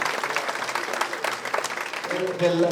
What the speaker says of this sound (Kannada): ನಿಮ್ಮೆಲ್ಲರ ಅಭಿನಂದನೆಯ ಪ್ರೀತಿಯ ಚಪ್ಪಾಳೆ ಬರಲಿ ಎಲ್ಲ ಐದು ಸಾಧಕರಿಗೆ